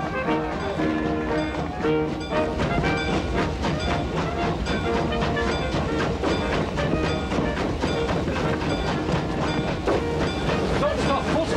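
A train runs at full speed in a 1990 film scene, giving a loud, steady rumble with dense rhythmic clatter that continues without a break throughout.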